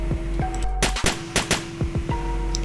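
Sharp gunshots fire in quick succession in an Unreal Engine video game, each crack thin and light with a short falling tail and no voices over them.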